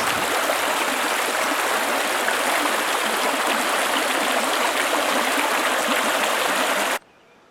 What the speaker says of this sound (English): There's a little creek coming down out of the hills.